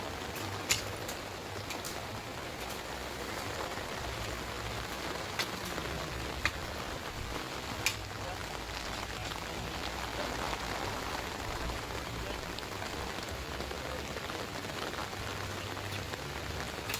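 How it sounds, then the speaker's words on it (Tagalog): Rain falls steadily for the whole stretch, a soft, even hiss with faint scattered drip ticks, quiet and unbroken, with no voices. "Ang ulan, nabasa na sila."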